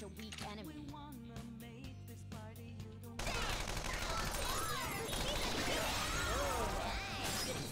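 Rapid gunfire in the video game Persona 5 Royal during a Mementos battle: a few seconds of game music, then a loud, dense, sustained burst of shots crackling over the soundtrack until the end.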